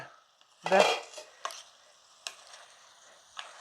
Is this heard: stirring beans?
yes